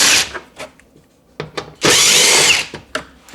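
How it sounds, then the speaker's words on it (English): Power driver whirring in short bursts as screws come out of a Polaris RZR Pro XP body panel, with one longer sustained run near the middle, close and loud, no talk. "We have to remove these 3 screws."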